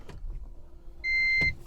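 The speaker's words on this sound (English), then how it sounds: "If I put the car into reverse," A Toyota Prius shifted into reverse gives a short, steady electronic beep tone, preceded by faint soft cabin clicks and rustle, close and quiet with no talking.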